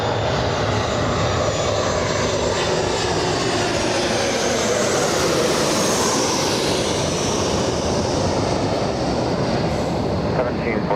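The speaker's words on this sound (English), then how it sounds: "Next arrival we have is Southwest, a 737." A Southwest Airlines Boeing 737 arrives at Los Angeles International Airport, a loud, steady jet-engine roar filling the whole stretch with broadband rumble and no break.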